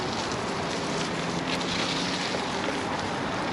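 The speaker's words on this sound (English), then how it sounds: "I'm not going to be exposing myself too much to the heavy wind today" Strong wind buffeting a microphone during a bike ride on a very windy day, a steady dense roar with rumbling gusts that fills the whole clip without pause, loud and close, no voices.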